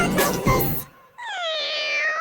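A cat lets out one long, wavering meow, close and clear, right after a brief burst of talking.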